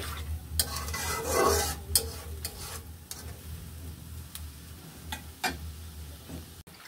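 Green chillies and salt stirred into a pan of pumpkin leaves, shrimp and potato: close scraping strokes of a spoon against the pan over a low sizzle, with a few sharper clinks spaced through the stirring.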